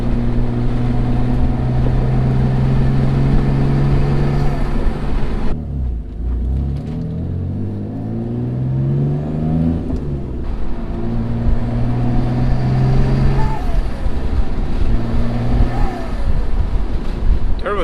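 A fully rebuilt Mitsubishi 3000GT VR4 with twin 15G turbos drives along with a loud, droning engine. Revs climb and drop through gear changes, with spool and whoosh on the rises and a steady rumble throughout.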